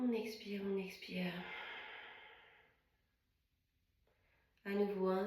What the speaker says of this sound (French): Et on expire tout doucement par le nez.